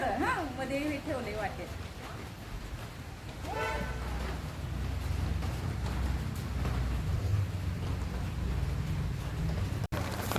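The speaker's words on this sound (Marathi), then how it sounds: "पाऊस पाऊस पाऊस किती पाऊस आहे बघा फार पाऊस आज आहे" Steady heavy rain hisses throughout with a low rumble underneath, while a voice talks briefly at the start and again near the middle.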